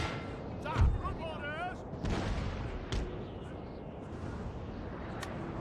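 Cannon artillery firing on a Napoleonic battlefield in Napoleon: Total War, a few muffled booming shots spaced over several seconds amid a steady rumble of battle noise, with a voice speaking over it.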